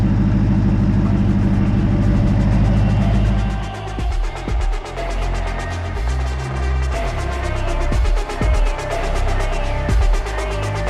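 A twin-turbo V8 carbon supercar idles with a deep, steady, diesel-like burble that shifts partway through into an uneven, loping idle with occasional pops, loud and close.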